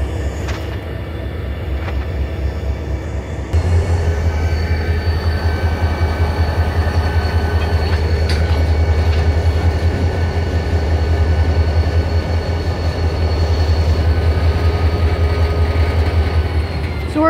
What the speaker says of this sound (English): Then I saw this manifest train yesterday.